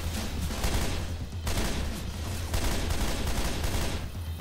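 Rapid bursts of gunfire from zombie-shooting action in Left 4 Dead 2, a steady dense crackle of shots running continuously with brief swells, fairly quiet overall.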